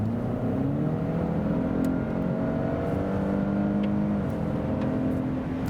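Range Rover Sport P400e plug-in hybrid with its combustion engine running, accelerating hard from 80 to 120 km/h in sport mode, a steady loud engine drone climbing in pitch from inside the cabin.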